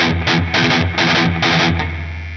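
An electric guitar plays through a HardSound VARVAR Velez distortion pedal, sounding loud and saturated as it hits a run of rhythmic chugging chords with brief gaps between them.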